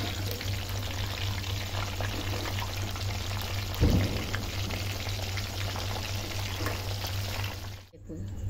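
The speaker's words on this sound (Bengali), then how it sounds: "দেখুন চিকেন বলগুলো সব ভাজা হয়ে গেল।" Chicken balls fry in hot oil in a wok with a continuous hissing crackle, steady and moderately quiet, joined by a brief clatter partway through and a low hum beneath.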